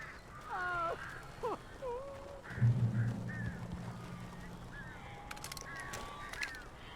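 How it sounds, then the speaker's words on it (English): Crows caw in the video game Alan Wake, with several rising and falling calls scattered over a low background rumble. A brief low voice or hum sits in the middle. "These birds are weird."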